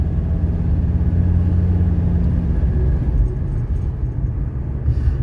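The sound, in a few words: 1985 Mercedes 300CD driving and shifting gears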